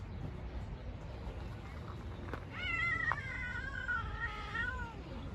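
A cat gives a drawn-out, wavering growl-like yowl rising and falling over a few seconds, over a quiet low rumbling background.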